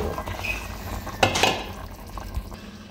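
String beans drop into a pot of simmering beef adobo, giving a brief clatter of utensil and vegetables against the pot at close range, followed by soft bubbling and stirring noise with no talking.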